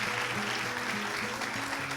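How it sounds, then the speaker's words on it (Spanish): A church congregation applauds in a brief, dense wash of clapping, with sustained musical tones playing underneath. "Denle un aplauso al Señor"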